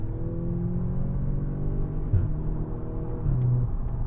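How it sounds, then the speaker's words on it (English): The 2-litre engine of an Audi S3 Sportback in dynamic mode drones steadily from inside the car, with brief dips at gear changes and small pops breaking through the low rumble. "I'm sure you can hear those gear changes there as well"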